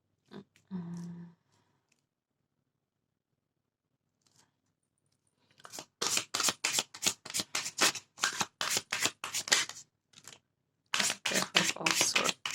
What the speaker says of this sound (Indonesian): Oke, kita lihat dari kartu tarotnya.